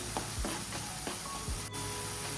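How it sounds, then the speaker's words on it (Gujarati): Chopped onions with a green chilli sizzling steadily in an oily pan for Gujarati sweet corn curry, a constant close frying hiss broken by a few soft stirring scrapes. "તો ડુંગળી સરસની સંતળાઈ ગઈ છે"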